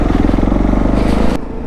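Motorcycle engine running steadily close up with a low rumbling drone, ridden along a road beside the Ganga river, then cutting abruptly quieter near the end.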